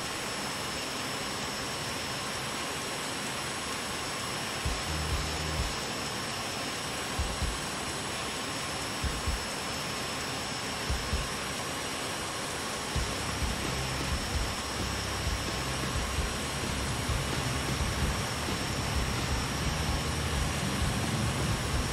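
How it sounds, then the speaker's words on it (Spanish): Airbus A320neo jet engines in Microsoft Flight Simulator 2020 give a steady, broad roar with a constant high whine, continuous and fairly loud with no voices, while faint thumps come and go underneath. "Se pueden escuchar los motores del A320."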